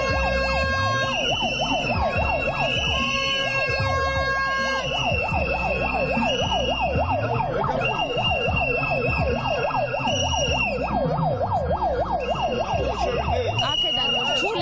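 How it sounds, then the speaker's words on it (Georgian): Protesters at a rally blow horns at a passing car, a loud, unbroken wall of overlapping blaring tones, some wavering up and down like sirens, with repeated blasts stacked on top of one another. "აქციის მონაწილეებმა საყვირებით უნდათ რომ ხმა გააგონონ გიორგი კახარიას."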